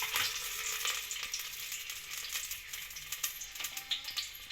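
Hot oil sizzles and fries in a kadai while biryani is being prepared. The sound is a dense, continuous, bright hiss close by, with small crackles and a few soft scrapes and no voices.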